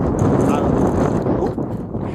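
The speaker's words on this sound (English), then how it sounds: "It's super windy today" Steady, roaring wind buffets the microphone throughout on a farm, a dense low rumble with gusty swells and no clear pauses.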